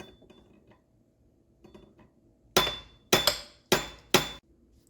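Four loud, sharp metallic hammer strikes ring out in a steady rhythm, knocking loose a chainring on a 2022 Cyberbike, with only faint workshop clinks beforehand and quiet ringing decay after each blow.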